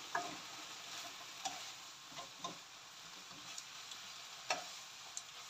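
Turkey and pasta sizzle quietly in a frying pan while a utensil stirs and scrapes, leaving irregular light clicks and taps over a soft, steady hiss.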